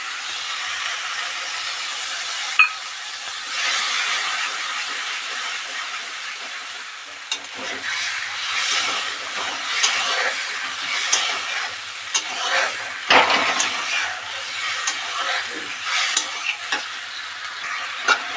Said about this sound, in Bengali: মশলাটাকে কষবো আমি